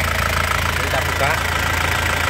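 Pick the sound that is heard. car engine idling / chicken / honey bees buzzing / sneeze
car engine idling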